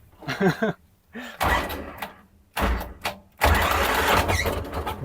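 A T-40 tractor engine with a decompressor being started outdoors: loud, rough bursts of cranking and firing come in three or four separate surges with short quiet gaps, ending in a sustained running roar.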